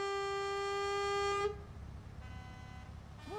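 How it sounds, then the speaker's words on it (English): Truck horn in the TruckersMP driving game: a long, steady, loud horn blast over low engine rumble, cutting off abruptly, then a softer honk. "What was the honking?"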